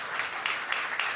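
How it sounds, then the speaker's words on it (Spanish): A church congregation claps together in a short burst, with dense, fairly loud applause pulsing in quick waves and no speech on top. "denle un fuerte aplauso al Señor el día de hoy"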